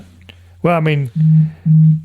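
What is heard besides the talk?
phone ringing or alert tone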